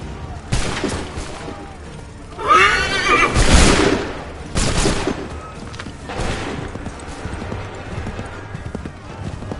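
Musket volleys crack out in Assassin's Creed III amid a battlefield, a few sharp bursts spaced across the span, with horses whinnying loudly nearby and shouted commands in the background.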